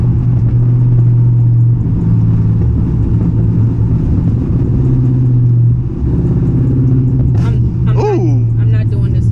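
Loud Dodge Charger Scat Pack engine drones steadily from inside the cabin while driving, a deep continuous rumble with a brief voice rising near the end.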